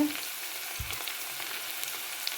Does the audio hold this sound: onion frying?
yes